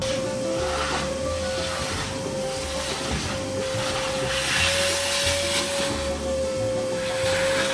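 Shop vacuum sucking debris out of the box rail of a 2010 Ford F-150 pickup, a steady loud whine and rushing hiss holding a constant pitch throughout, close by with no talking.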